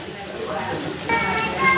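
Oil sizzles steadily in a pan as masala fries for a paneer curry, a continuous crackling hiss that grows a little louder partway through.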